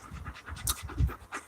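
Rapid, rhythmic dog panting close by, quick breathy huffs repeating steadily with a little scratching noise in between.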